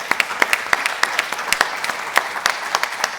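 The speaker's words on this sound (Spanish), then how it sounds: "Un fuerte aplauso para Mario." Brisk applause from an audience at a panel discussion on science communication, many hands clapping at once in a dense, lively patter that holds steady throughout, with no voices over it.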